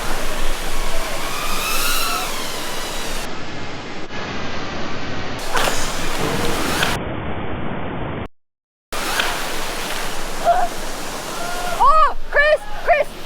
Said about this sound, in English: Wow, that's a cool waterfall.